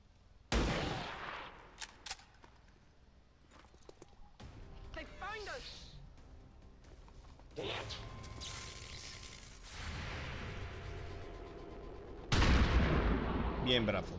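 Gunfire and mechanical effects in the tactical video game XCOM 2, sharp isolated shots and bursts scattered among whooshes and machinery sounds, with a person talking over the game.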